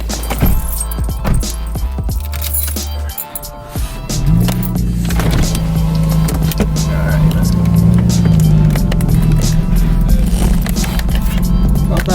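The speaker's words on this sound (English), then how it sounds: "Right now we're gonna be driving." A car drives while occupants check whether something is still rubbing, its engine drone rising and settling into a steady hum after a few seconds, with rattles and people talking throughout.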